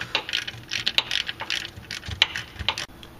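A ratchet working on transmission pan bolts under a Jeep Cherokee, close rapid clicking bursts with metallic clinks, no talking.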